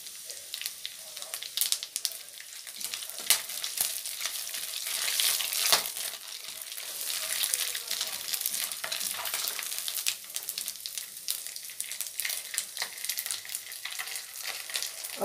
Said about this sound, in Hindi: अभी तेल गर्म हो गया है, उसमें मैं दे रही हूँ तेज पत्ता, सूखा मिर्ची, गरम मसाला